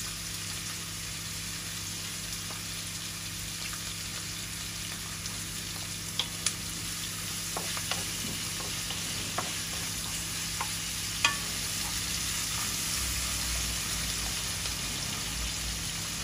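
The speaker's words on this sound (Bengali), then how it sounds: "এই যে আমাদের পেঁয়াজ ভাজি হয়ে গেছে।" Onions fry in a pan for a home-cooked beef and chana dal dish, a steady close sizzle with occasional light clicks and scrapes of stirring. Nobody speaks.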